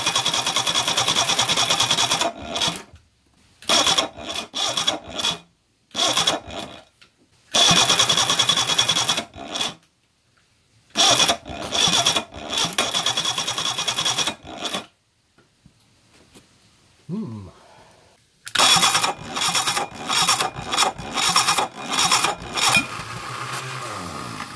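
A motorcycle engine with choke applied cranks and sputters in loud, close bursts, repeated start attempts separated by short silences, one long pause midway, after clutch and electronic ignition work.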